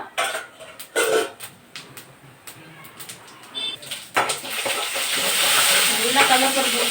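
Mustard seeds, chana dal and urad dal sizzle in hot oil, with scattered popping clicks and utensil taps first, then a louder, steady frying hiss that builds and holds.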